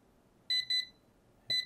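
Rechargeable digital kitchen timer alarm on its lowest volume setting beeping: two quick high-pitched beeps, a pause, then another beep, fairly quiet and close.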